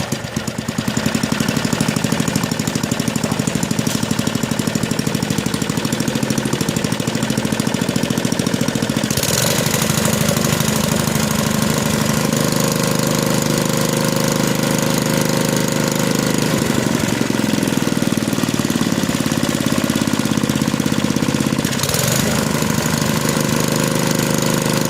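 A small engine with an adjusted mechanical governor runs loud and close at a steady, rattling high speed, holding constant with a brief shift midway, no voices over it.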